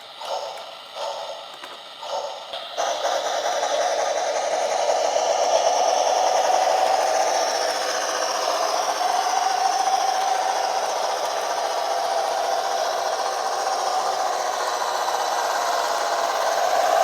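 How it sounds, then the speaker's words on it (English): A model train's chuffing sound effect: a few short hissing bursts give way to a continuous whooshing hiss that runs steadily for many seconds, close and fairly loud, mechanical in tone. "the chuffing effect kind of sounds more like a fire engine, especially at high speeds"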